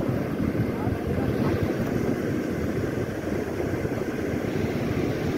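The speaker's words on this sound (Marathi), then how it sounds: "आणि ही सुंदर अशी लाट आली बघा।" Sea waves wash and break on Malgund beach on the Konkan coast where people are fishing, a steady loud roar of surf blended with wind buffeting the microphone throughout.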